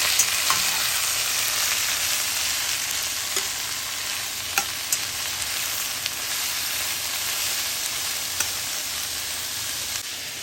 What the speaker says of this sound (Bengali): এবার দেবো বাঁধাকপি, এবার একটু নাড়াচাড়া করে দেবো।